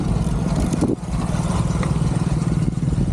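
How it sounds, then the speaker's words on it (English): A motorbike passes on a rural road in Maharashtra, a steady close engine drone and clatter that holds loud through the whole stretch, with a brief dip near the start. "Just wait for this motorbike to go by."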